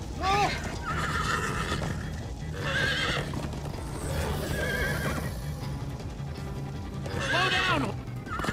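Horses whinny repeatedly over a thudding gallop of hooves in Minecraft: Story Mode, loud and close, with game-like ambience and bursts of neighing every few seconds.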